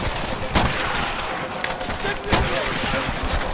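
A PTRS anti-tank rifle fires in Call of Duty: World at War, with two heavy shots cracking out of dense battle noise while a player talks over the game.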